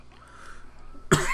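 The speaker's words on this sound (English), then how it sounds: "Excuse me, I coughed a little bit." A single sharp cough bursts out near the end, close and loud after a stretch of quiet murmuring.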